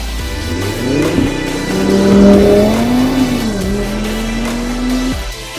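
A Cupra Formentor VZ5 accelerating hard in its sporty driving mode, a loud, close engine note rising and holding steady through the gears for several seconds before cutting off, with no talking.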